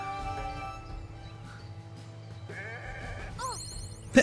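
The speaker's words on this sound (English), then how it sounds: "when we end our turn here and the sheep attack us with friendly attacks" Sheep bleat during an attack in the video game Renowned Explorers, a few wavering cries over soft game music and effects, ending with a brief sharp hit.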